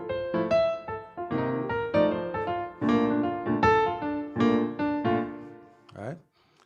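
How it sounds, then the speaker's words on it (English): Jazz chords over a 2-5-1 progression are broken into quick rising and falling arpeggios, note after note in a steady flow, ending with a brief voice. "So if I were to play it just using arpeggios"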